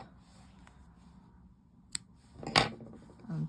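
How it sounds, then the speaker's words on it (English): Scissors snip off a yarn end during crochet: a single sharp close cut, then a brief soft rustle, over a quiet room. "Snip that bit off"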